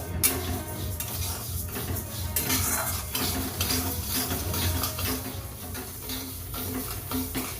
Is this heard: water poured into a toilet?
no